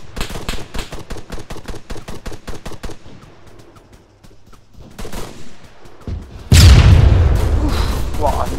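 Gunfire in the video game King of the Hill opens with a rapid, evenly spaced burst of shots, then scattered single reports, and ends in a loud blast with a lingering rumble, with voices talking over parts of it.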